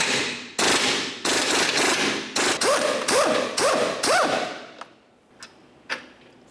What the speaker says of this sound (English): Now let's use a 19mm socket to remove this.